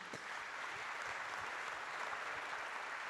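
An audience applauds Thomas Saunier at a French business event, a dense, steady wash of clapping from many hands that holds at even loudness throughout.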